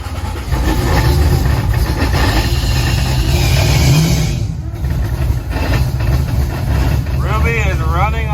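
Ruby, a car with a 98mm turbo running on a Holley Dominator fuel system, roars loudly and steadily on a dyno, its engine noise filling the whole stretch with a brief dip midway, while people talk over it.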